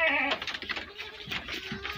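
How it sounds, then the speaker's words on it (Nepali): A Boer-cross buck goat on a farm in Nepal lets out one short, close bleat right at the start, then quieter farm sounds and scattered animal noises follow. "सो ब्यूटीफुल बोका हो यो पनि, हरियो बोर 75 क्रसबाट निस्केको"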